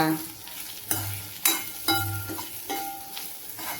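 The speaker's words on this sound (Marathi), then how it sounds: "शेंगदाणा टाकल्यावर पण चांगलं असं परतून घ्यायचं आणि थोडा वेळ झाकण ठेवायचं।" Bitter gourd is sautéed with coarse crushed peanuts in a pan, with a soft sizzle under about five distinct scraping stirs of a spatula, close and fairly quiet.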